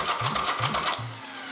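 A Yamaha Virago starter motor runs in short whirring bursts, about three quick pulses with brief gaps as the Bendix gear engages, heard up close with a mechanical buzzing and no talk.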